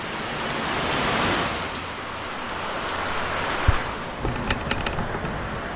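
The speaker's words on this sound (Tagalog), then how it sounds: "ang lakas na naman ng ulan" Steady, dense rush of heavy rain fills the whole clip, a broad hiss with a few sharp knocks and drips near the end.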